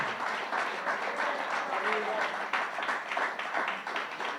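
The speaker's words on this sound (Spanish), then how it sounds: "Si lo vas a aplaudir, apláudelo." A church congregation claps steadily during a sermon, a dense, even wash of applause that continues throughout at moderate level, with a voice faintly audible underneath.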